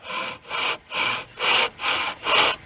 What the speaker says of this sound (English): I just wanted to show you how I saw with the back saw.